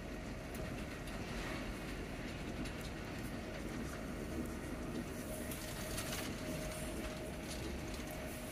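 An Avanti West Coast train slows on its approach to London Euston, giving a quiet, steady rolling rumble with faint rail clatter and a squeal, heard from inside the carriage with no talking.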